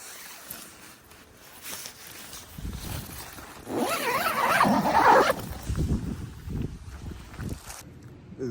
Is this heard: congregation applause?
no